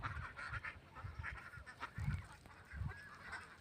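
A flock of ducks calling nearby, a string of quiet, irregular honking quacks overlapping in bursts, faint and close.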